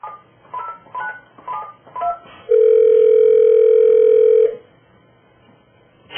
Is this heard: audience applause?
no